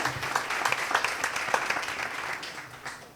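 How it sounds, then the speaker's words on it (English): Audience at a university quiz regional round applauding the scorekeeper, a steady crowd clapping of moderate loudness that carries on for about three seconds without any speech. "Round of applause for the scorekeeper as well."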